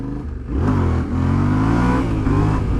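A 2021 Yamaha Tenere 700 adventure motorcycle engine revs hard during a wheelie, a loud close roar that dips briefly then climbs and holds at high revs.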